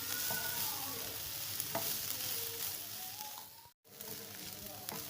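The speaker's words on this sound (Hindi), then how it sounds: "अब हम इसमें इसके साथ ही चिकन डाल देंगे। चिकन को भी फ्राई कर लें।" Chicken frying together with shredded cabbage in a pan for samosa filling, a continuous fairly quiet sizzle with occasional stirring knocks and one brief dropout, no voices.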